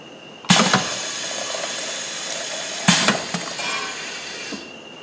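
An MD-500M1 semi-automatic dosing machine with mixer, pedal-operated, dispenses a 200 ml dose: two sharp pneumatic bursts, each followed by a steady hissing, pumping run that fades out.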